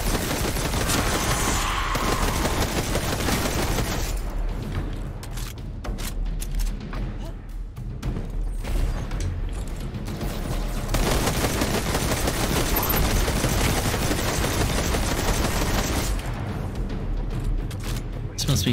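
Sustained gunfire in the video game Destiny 2, dense rapid bursts of loud shots and impacts filling the whole stretch, with a brief lull in the middle before the firing resumes.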